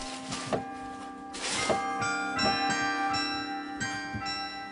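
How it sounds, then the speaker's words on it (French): Carillon bells of the Collégiale Saint-Vincent in Soignies ring out in a steady series of struck, resonant tones with long overlapping decays, heard clearly with no voices. "Toute l'année, on y entend des cloches."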